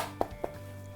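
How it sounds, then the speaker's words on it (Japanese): Three light taps on the rim of a plate of tomato risotto, spaced apart in a quiet kitchen, the last tap the loudest and sharpest. "最後にちょっとお皿の縁を叩いて"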